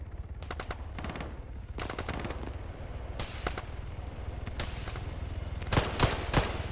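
Bursts of automatic and single gunshots crackle through a multiplayer Arma military session with ShackTac, some distant and some closer, firing in irregular volleys with a louder cluster of shots near the end.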